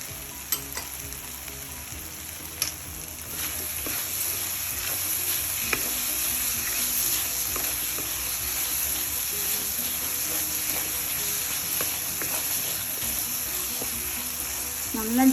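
Mushrooms with pepper frying in a pan, giving a steady close sizzle and hiss that runs throughout, broken by a few light stirring clinks.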